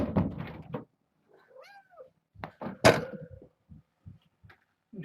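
Kittens let out several short meows at close range between quiet gaps, with a few soft thumps and knocks around them.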